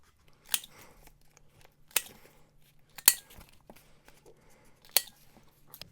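Scissors or a corner-rounding punch cutting paper corners on a handmade journal pocket, four crisp, separate snips spaced about a second apart, close and fairly quiet over a faint background hum.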